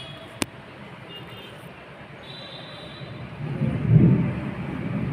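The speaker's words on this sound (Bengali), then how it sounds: "মেঘ ডাকা শুরু হয়ে গেছে।" Thunder as rain begins: a low, distant rumble that swells for about a second near the end and then fades under steady background noise.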